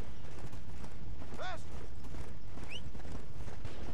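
Horses' hooves clop along in the zombie western game Red Dead Redemption: Undead Nightmare, with two horses on hand. The steps are steady and muted, set against a constant game ambience and a couple of brief whistling tones.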